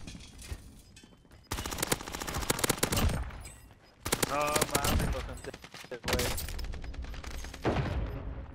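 Loud bursts of rapid automatic gunfire from an MP5 in the Call of Duty video game, in several sustained volleys separated by short breaks, with someone talking over and between them.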